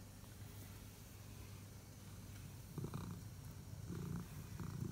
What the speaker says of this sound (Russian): Нужно просто погладить, и все. Кот мурлыкает.